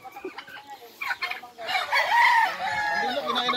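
An agitated turkey calls loudly in harsh, rising bursts, with louder sustained fowl cries in the second half and scattered shorter calls before.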